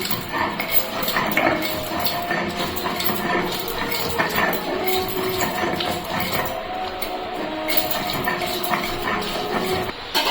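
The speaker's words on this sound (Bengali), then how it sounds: "লাল শাকটা শিলেই বেটে নিচ্ছি।" Red amaranth leaves being ground by hand on a traditional flat grinding stone, a steady scraping, rubbing and clattering that runs continuously and fairly loud, close up, with no talk.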